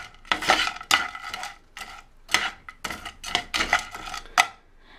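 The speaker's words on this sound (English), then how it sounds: "Gonna just stir that around." A utensil stirs chopped onions in a pan, giving a series of irregular scraping and clinking strokes against the metal, close and moderately loud with no talking.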